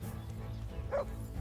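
A dog in Kingdom Come: Deliverance lets out one short, faint bark or yip about midway through, set against a low, steady game background.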